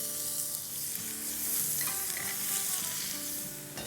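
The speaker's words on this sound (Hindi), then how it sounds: "और अब इसमें हम डालेंगे कुछ सूखी हुई लाल मिर्चें, जो कि जलानी नहीं है, अच्छे से खुशबू लानी है।" Dried red chillies with ground ginger, garlic and black pepper frying in hot oil, a steady close sizzle with stirring scrapes throughout and no voices.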